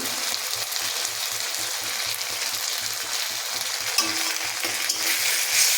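Prawn malaikari frying and being stirred in a pan, a loud, continuous hiss and crackle with rhythmic low scraping strokes from the spoon throughout, no voices.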